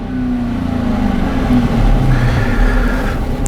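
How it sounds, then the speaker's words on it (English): A 2012 Dodge Charger V8 with a misfire, given a quick rev: a close, loud engine rumble swells briefly and then settles back toward idle, with no talking. "we want to go ahead and we want to give it a quick rev"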